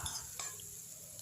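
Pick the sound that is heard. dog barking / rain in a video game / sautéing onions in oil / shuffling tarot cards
sautéing onions in oil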